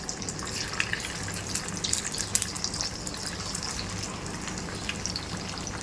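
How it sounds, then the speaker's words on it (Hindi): Semolina and raw potato snack pieces frying in hot oil, a steady close sizzle with dense crackling and popping that runs without a break. "यहाँ पे देखिए गर्म ऑयल के अंदर मैं इसे इस तरीके से फ्राई कर रही हूँ।"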